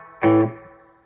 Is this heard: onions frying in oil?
no